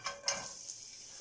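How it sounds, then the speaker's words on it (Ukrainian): Onion fries quietly in oil in a pan over medium heat, with a brief stirring scrape near the start, soft and close. "Смажу її, щоб вона стала м'якою."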